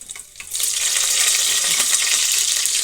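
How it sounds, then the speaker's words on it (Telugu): Mustard and other tempering seeds with dried red chillies hit hot oil for a tomato rasam, bursting into a loud, steady sizzle after a brief quiet start and crackling on without a break. "టమాటా చారుకి పోపు పెడుతున్నా అండి."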